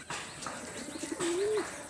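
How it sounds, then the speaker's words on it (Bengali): A pigeon on a rooftop gives one short, clear coo that rises and falls, close by, with faint chirps and rustling in the background. "এই যে কবুতরটা এইটা দিয়ে আমার যাত্রা শুরু"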